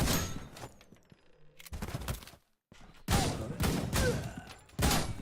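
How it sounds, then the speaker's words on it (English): Bursts of rapid video game gunfire rattle in clusters with short silent gaps between them, sharp and fairly close. "They hear all these gunshots, but they're like not reacting to it."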